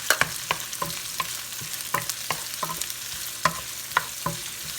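Chopped ginger and onions frying in a pan, a steady soft sizzle broken by repeated sharp scrapes and clacks of stirring, with no voices.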